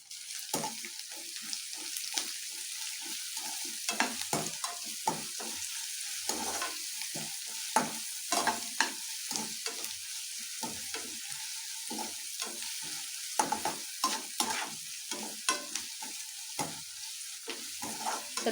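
Soya fried rice ingredients, including onion, sizzle steadily in a pan while a spoon stirs and scrapes in frequent clinks and knocks, close up, with no speech.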